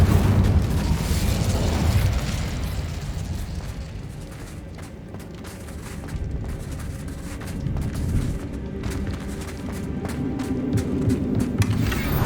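Incendio fire spell cast in the video game Hogwarts Legacy, a loud fiery whoosh and rumbling burst that settles into a softer crackling, roaring wash for several seconds, with no voices.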